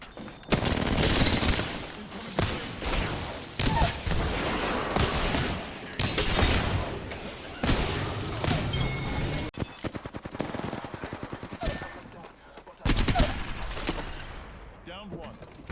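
Sustained automatic gunfire pounding Gibraltar's dome shield in Apex Legends, dense rapid bursts with brief pauses, loud and close, while a player talks over it.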